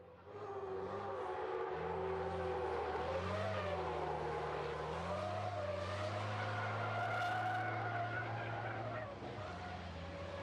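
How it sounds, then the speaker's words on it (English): Racing truck drifting in a demonstration after a race day at Slovakia Ring, sustained tyre skidding and squeal over a steady engine drone, loud and continuous for several seconds with no talk. "If you've never seen a truck drift before, feast your eyes."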